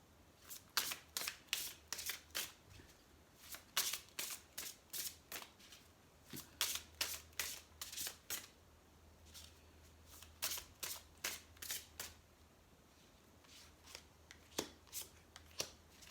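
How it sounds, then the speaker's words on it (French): A deck of fairy-guidance oracle cards is shuffled by hand in a run of quick, crisp riffling bursts, repeated over and over close up with short pauses between. "On va en prendre 2 cartes pour les amis les béliers."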